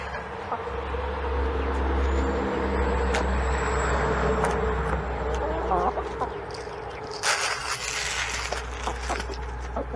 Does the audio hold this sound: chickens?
yes